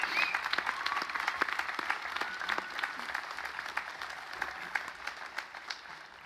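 An audience at a gala performance applauding steadily throughout, dense clapping from a sizable crowd that holds even and slowly thins toward the end.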